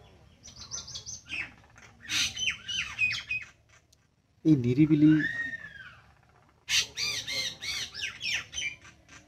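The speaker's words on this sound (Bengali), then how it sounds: "এই পাখির আওয়াজগুলো শুনতে মনটা যেন জুড়িয়ে যায়" Birds call outdoors beneath a tree in a quiet spot, with a loud burst of squawking standing out between stretches of people talking nearby.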